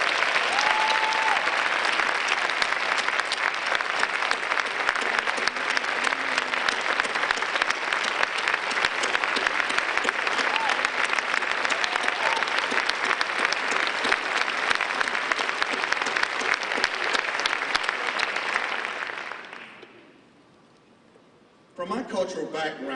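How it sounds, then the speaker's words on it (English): Sustained, dense applause from a large audience at a National PTA installation ceremony fills about twenty seconds before fading out, followed by a short burst of other sound. "Let's please give Bessie a round of applause."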